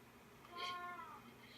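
A pet cat gives a single meow, faint and a little distant, over a steady background hum from a computer game.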